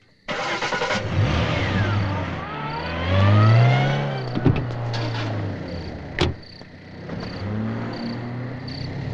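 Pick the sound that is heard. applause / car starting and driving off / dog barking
car starting and driving off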